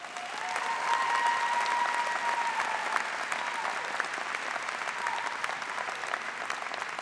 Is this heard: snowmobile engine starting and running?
no